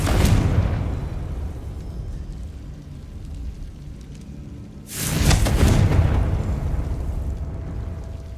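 Confringo blast spells explode in the fantasy game Hogwarts Legacy, two heavy booming bursts with rumbling tails, one at the start and a louder one midway, close and without talk.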